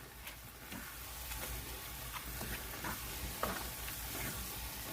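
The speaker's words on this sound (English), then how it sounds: "And you want to have a continuous stir." Milk being stirred steadily into sausage gravy in a pan, with a soft continuous sizzle and faint scraping strokes close by, no voices.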